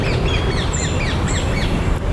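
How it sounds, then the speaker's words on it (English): City ambience with birds mixed in for a low-budget short film, a dense loud wash of traffic-like rumble beneath scattered chirps and calls, no talking. "Here's an example with city ambiance."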